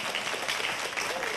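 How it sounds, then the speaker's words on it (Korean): A studio audience claps through a short stretch of applause at a televised math-magic lecture, steady and fairly close with no clear break, under a faint hum of voices. "이해되신 분은 박수 한번 해주시면 좋겠습니다"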